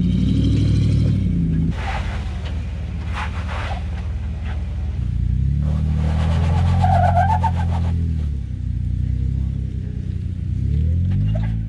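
A modified Jeep engine on an off-road trail, rumbling and revving in rising and falling surges at close range, loud and continuous with a few scraping noises in between and no voice over it.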